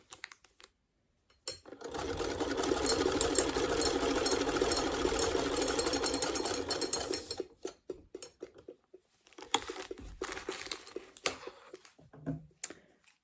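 Close sewing machine steadily stitching string-pieced quilt strips in an off-grid setting, one long continuous run followed by short stop-start bursts and quiet handling.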